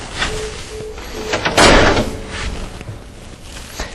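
Side tray of an FD 6202 paper folder inserter lifted back up and its magnetically sealed cover brought down, a close plastic rattle and a solid thud in the middle with lighter knocks around it.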